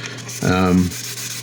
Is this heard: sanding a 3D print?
yes